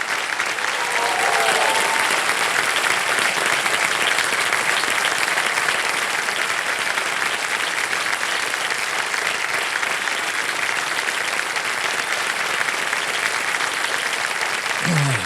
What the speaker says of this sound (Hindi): एक बार फिर जोरदार तालियां इन दोनों बेटियों के लिए